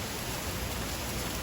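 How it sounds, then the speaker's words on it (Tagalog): Steady rain falls and drips outdoors around a small space crowded with potted plants, a dense continuous hiss with no breaks, fairly soft and even throughout. "tumutulo na yung ulan."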